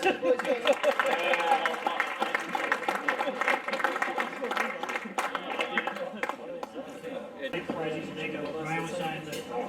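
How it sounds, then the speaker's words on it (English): A football club's senior awards night crowd claps and cheers for the players, loud and continuous applause with crowd voices mixed in, easing slightly toward the end. "big round of applause for the boys"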